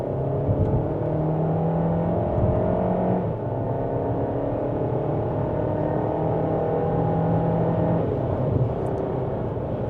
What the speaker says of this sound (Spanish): Pedal a fondo.